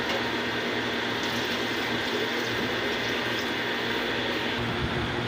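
Water pours steadily into a pot of chicken and pea gravy in a continuous, close, rushing stream that holds constant throughout, with no talk.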